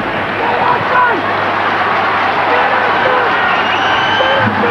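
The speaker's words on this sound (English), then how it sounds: "This crowd getting a little bit irritated." Rugby league stadium crowd at a 2001 Bradford versus Hull FC match, a dense and restless roar with scattered shouts and whistles that stays loud throughout.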